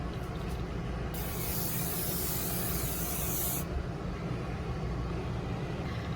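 Hairspray misted over makeup as a setting spray at a powwow, one sustained hiss of about two and a half seconds against quiet background noise.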